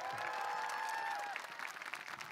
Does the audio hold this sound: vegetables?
no